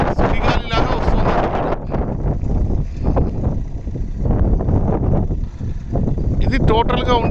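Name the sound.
strong wind gusting at a high open site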